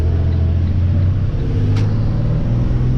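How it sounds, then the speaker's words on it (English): Road traffic passes on a highway in South Georgia. A steady, loud engine rumble carries through, with vehicles droning past continuously and no talk. "there's a lot of traffic today"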